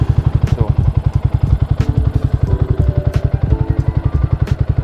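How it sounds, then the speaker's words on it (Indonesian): A motorcycle engine runs after a Motobatt gel battery is fitted, a loud close rapid steady thumping idle with a regular beat throughout. "Sekarang sudah bisa di starter dengan normal."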